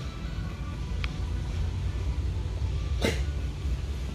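One sharp, brief sneeze bursts out near the end, standing clear of a steady low background hiss with no talking around it.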